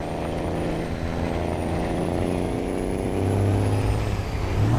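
A Mercedes-Benz 1518 truck in Euro Truck Simulator 2 climbs a hill in third gear, its diesel engine droning steadily and low, swelling a little louder toward the end.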